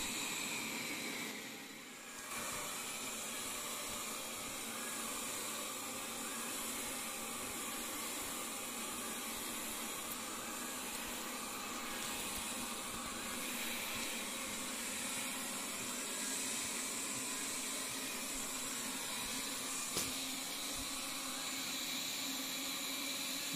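An automatic vacuum cleaner works over a mattress and a bed base, giving a steady, loud whirring hiss that runs almost unbroken, with a short dip near the start.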